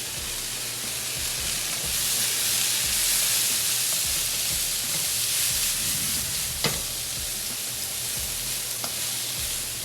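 Mixed vegetables sizzle and fry steadily in a pan while being stirred, a constant bright hiss with occasional scrape and clink of the utensil, close and with no talking.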